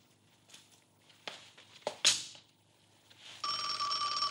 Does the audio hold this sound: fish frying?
no